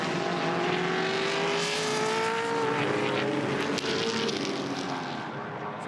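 Touring Car Masters race cars at Queensland Raceway in 2016 blare past on the run toward a corner, a loud, sustained engine drone that shifts in pitch as a car goes by, with no talk.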